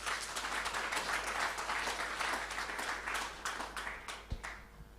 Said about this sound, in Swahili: Tuthi na mbere tumuhurire makofi.